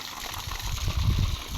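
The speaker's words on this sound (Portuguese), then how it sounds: "Aí a gente pega a mangueira para irrigar as plantas, ó. E eu vou mostrar para vocês como fica forte a água" Strong water flow rushing from a garden hose fed by 2,000-litre rainwater storage tanks used for irrigating plants, a steady close gushing hiss that swells slightly louder toward the end, with no talk.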